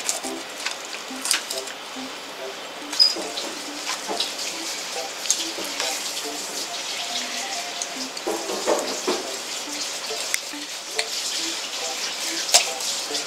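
Tap water runs and splashes in a kitchen sink as a red sea bream is rinsed, a continuous close hiss broken by irregular knocks and clatters of handling, with someone talking over it.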